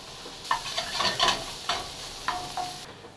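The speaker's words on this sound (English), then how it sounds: "Frying onions takes the longest time." Onions sizzle in a hot pan while a utensil scrapes and stirs in several short bursts, close and fairly quiet.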